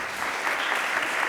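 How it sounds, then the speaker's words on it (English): An audience at a Vermont gubernatorial candidates' forum on women's issues breaks into applause: a steady, even wash of many hands clapping together, heard on its own. "Let's hold our applause to the end"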